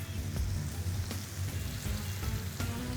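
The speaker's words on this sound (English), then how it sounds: "So we're just gonna throw this bacon on." Thick cut bacon sizzles and crackles on a hot Gather Grill griddle, a steady close frying hiss with scattered sharp pops and no talking.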